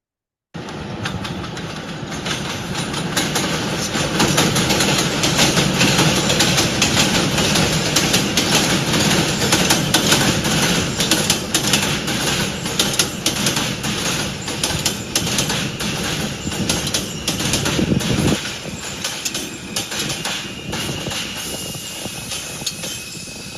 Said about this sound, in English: 1 in 4 trains, approximately, on the New York subway system is an R160.